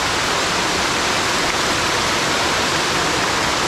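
Digisit Falls in Baler, Aurora pours in a steady, loud broadband rush of falling water, a continuous roar with no pauses and no voices over it.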